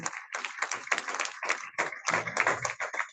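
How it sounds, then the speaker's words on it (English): Applause at an induction ceremony, a burst of clapping in uneven waves with distinct sharp hand claps, fairly close, dipping briefly and then swelling again. "Please, a round of applause for my trustee."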